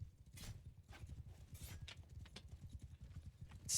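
Horse hooves clip-clop in a quick, uneven rhythm in a team video game match, faint and close, with scattered clicks and bits of background game noise.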